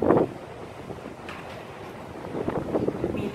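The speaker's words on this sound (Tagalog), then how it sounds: "Ang lakas ng hangin, oh." Strong gusty wind in bad weather in Japan, a rough roaring rush buffeting the microphone close up, swelling loudly at the start and again near the end, with no clear talk.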